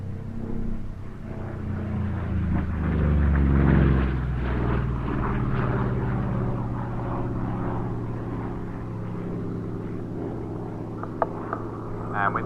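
A Corsair propeller fighter in Royal Navy Fleet Air Arm markings flies at the Duxford air show. Its engine makes a steady droning roar that swells to a peak at mid-pass and then fades slowly, with faint crowd noise at the end.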